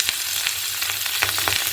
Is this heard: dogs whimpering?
no